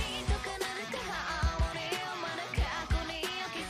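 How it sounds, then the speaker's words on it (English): Punchy synthetic drums with deep booming kicks and crisp snappy hits pulse in a steady hip-hop groove beneath layered melodic sounds. "These are drum synth sounds that are ubiquitous to current-day hip-hop and trap music."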